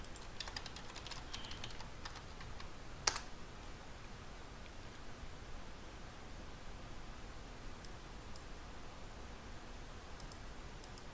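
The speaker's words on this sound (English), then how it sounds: "I'm going to type password for this administrator account" A password is typed on a computer keyboard: faint, quick clusters of key clicks, busiest near the start, then sparse taps over a soft, steady hiss.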